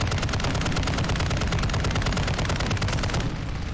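The RAAL MG machine gun in a shooter game fires one long, unbroken automatic burst, rapid and loud with steady rhythm, dropping off just before the end.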